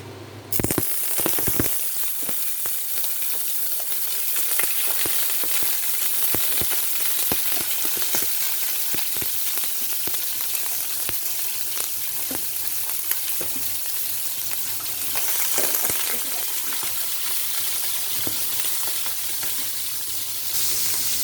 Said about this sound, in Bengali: শুকনো মরিচটা একটু লাল হলে তারপর চিংড়ি মাছটা দিয়ে দিব।